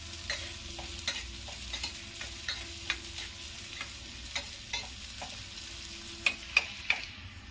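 Onion and dried red chillies fry on a medium flame for kadhi pakoras, sizzling softly and steadily under a run of light, irregular spoon taps against the pan, louder clicks near the end; no speech.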